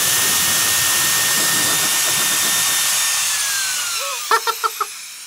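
A portable battery-powered fan blower rated 7.4 volts and 185 watts runs with a loud, steady whooshing rush and a high whine, then winds down in pitch before four short beeps sound near the end.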